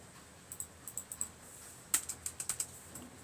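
Typing on a computer keyboard while setting up PHP on Linux: two quick bursts of light key clicks, a short pause between them, with an Enter press opening the second run, nearby and moderately quiet with no talking.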